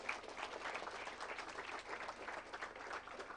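An audience at a climate justice summer school closing ceremony in Nairobi claps for a virtual guest, a faint, even wash of many hands that continues steadily throughout.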